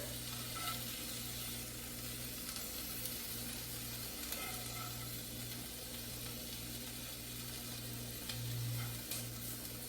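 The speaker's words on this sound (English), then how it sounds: "I'll just put some of this sizzling meat in here" Chicken sizzles steadily in a hot pan, a continuous crackling hiss with a low hum underneath and no voices.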